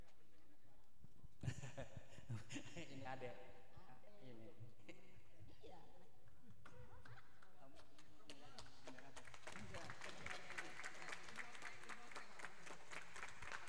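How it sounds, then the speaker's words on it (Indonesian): Applause at a groundbreaking ceremony for the Masjid Jami At-Taqwa mosque, quiet and distant at first, then swelling into denser clapping in the later half, with voices mixed in. "Tepuk tangan."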